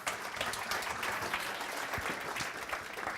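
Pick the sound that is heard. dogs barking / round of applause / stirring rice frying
round of applause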